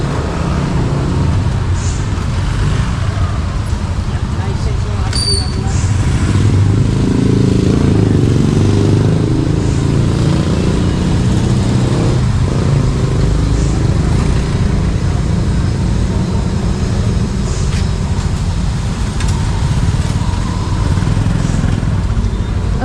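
A motorcycle engine idles and rumbles steadily nearby on a Manila street, with traffic noise around it and faint voices now and then.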